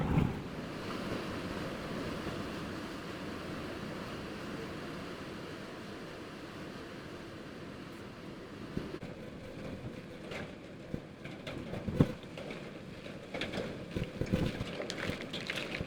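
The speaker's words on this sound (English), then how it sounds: "Look at that wind gust. Here it comes. Here it comes." Strong hurricane wind gusts during Hurricane Milton roar in a dense, continuous wash with buffeting against the microphone. Louder bursts and crackles come near the end, and there is no talk.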